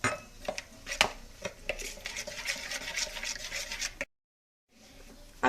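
A utensil stirring and scraping in a bowl while mixing a fish marinade of olive oil, coriander and spices, with steady close clinks and swishes that stop abruptly, then resume briefly.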